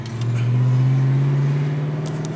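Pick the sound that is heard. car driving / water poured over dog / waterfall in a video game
car driving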